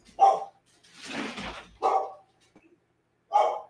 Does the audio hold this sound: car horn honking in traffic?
no